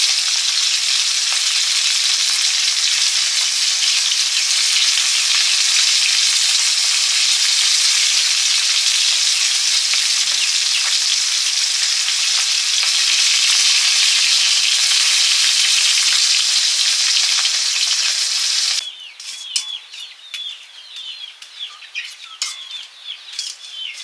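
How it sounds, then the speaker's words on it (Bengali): Fish fried in a pan over low heat, a steady close crackling sizzle of oil lasting about nineteen seconds, then dropping to quieter scattered pops and clinks with no talking. "মাছগুলো কি সুন্দর হালকা জ্বালানিতে খড়খড়ে শব্দ হচ্ছে"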